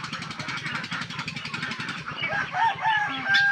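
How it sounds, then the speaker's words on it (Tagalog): Domestic ducks kept on a small farm call out in a busy flock, with overlapping nasal calls close by and a voice talking in the background. "Ito naman yung aking mga itik."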